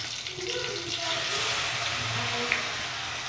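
Water is poured into a container to rinse out ground masala for a fish curry, a close, steady gushing splash that rises slightly midway, with faint talk beneath.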